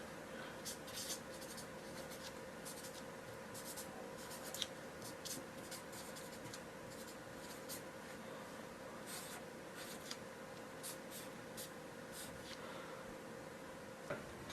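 A pen writes on regular paper sheets at a table, making faint, steady scratching strokes with a few soft taps, quiet and close with no talk.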